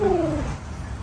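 A person imitates a pigeon's coo with a single short, low, throaty voiced sound that glides downward, close and fairly loud, over a faint background.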